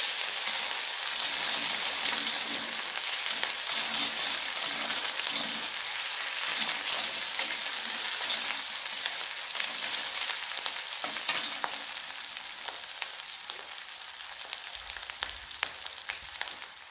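Onion and ginger frying in a pan for mushroom curry, a steady close sizzle with scattered crackles and occasional stirring scrapes, easing slightly toward the end, no voices.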